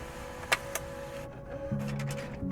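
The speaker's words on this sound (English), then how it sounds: "There's some good printer sounds." Printer in the game Life Is Strange: Double Exposure, running with a steady mechanical whir and a few sharp clicks and ticks. The sound is moderately quiet and plays alone, with no talking.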